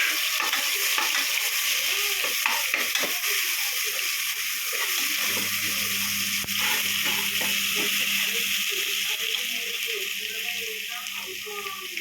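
Ginger garlic paste and spices frying in oil for tomato rice, a steady close crackling sizzle with stirring scrapes throughout and a low hum entering partway through.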